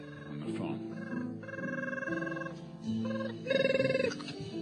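Telephone ringing in a comedic radio sketch, with repeated electronic ring bursts over a jazzy background bed, fairly soft in the mix.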